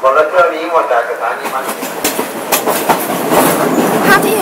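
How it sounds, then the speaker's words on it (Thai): An ordinary passenger train, number 208 from Nakhon Sawan to Bangkok, runs with a steady rumble and clickety-clack of wheels, loud and close, while a voice talks over it throughout. "นี้เป็นขบวนรถธรรมดาที่ 208 วิ่งจากสถานีนครสวรรค์ปลายทางสถานีกรุงเทพ"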